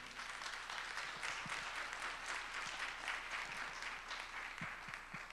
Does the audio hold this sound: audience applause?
yes